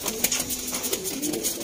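Pigeons cooing for sale in Sialkot, soft low throaty coos repeating close by over a faint background hiss, with no talk.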